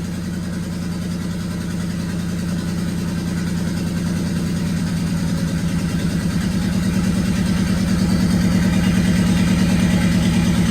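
Subaru engine swapped into a VW Beetle idles close by with a steady, throbbing mid-pitched rumble that grows slightly louder and rougher as revs rise, with no talking.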